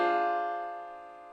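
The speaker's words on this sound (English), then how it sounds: "D half diminished 7th." A single D half-diminished seventh chord rings out once and decays smoothly over about a second, close and clear with no voice over it.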